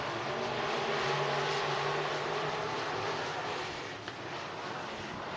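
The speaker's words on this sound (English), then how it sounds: "We are racing for the final heat race of the modified division." Modified division race cars roaring around Cottage Grove Speedway in Oregon: a dense, steady engine drone fills the air, loud and continuous, with only a slight dip near the end.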